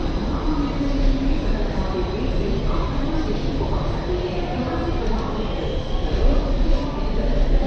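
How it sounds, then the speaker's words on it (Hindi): An Ahmedabad–Howrah train rolls past a platform at Nagpur station with a loud, steady rumble of wheels and carriages throughout, and a voice talks over it. "यहाँ पर एक और एक ट्रेन जा रही है"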